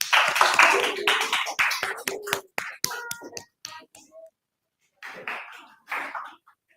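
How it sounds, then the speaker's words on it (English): A small audience claps to welcome a speaker on stage at a speaking event, a brief scattered burst of applause that thins into a few isolated claps and dies away, with some talk in the background. "Everyone please give a big round of applause for Matthew."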